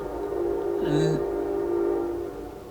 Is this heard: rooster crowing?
no